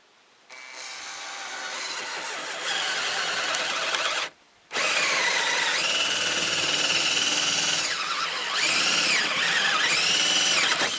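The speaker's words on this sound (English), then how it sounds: "I could just drill it up." A power drill whines loudly and steadily, pauses briefly, then resumes with changing pitch as it bites into material while building a DIY hot tub.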